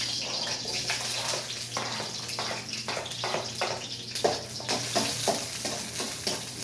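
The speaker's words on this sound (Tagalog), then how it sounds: "Lagyan na natin ang sibuyas." Onions sauté in a hot pan for a dish of sweet potato leaves with pork chop, a continuous close sizzle with repeated stirring scrapes in an uneven rhythm.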